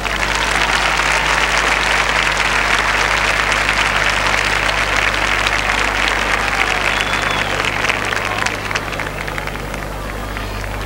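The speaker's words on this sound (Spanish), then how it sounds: "con el aplauso de la Quinta Vergara" A large festival audience at the Quinta Vergara amphitheatre in Viña del Mar applauds in a dense, loud, continuous roar of clapping that holds steady throughout the 1979 awards ceremony and eases slightly near the end.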